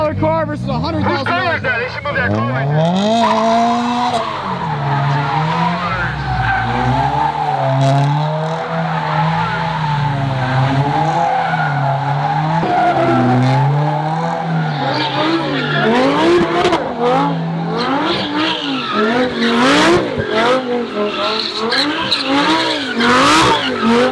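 A Lamborghini drifting, its tires screeching in long wavering squeals over a loud, revving engine that rises and falls throughout, with voices talking over the din.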